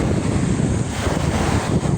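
Steady wind buffets the microphone while waves wash along the seashore, a loud, constant rushing roar with no pauses.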